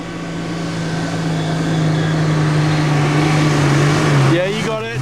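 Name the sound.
off-road vehicle engine revving on a bush track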